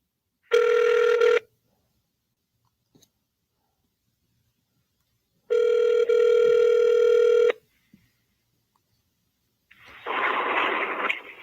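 Telephone tones on a dropped call: a short steady tone, a pause, then a longer two-second tone, followed by a burst of hissy noise, loud and alone.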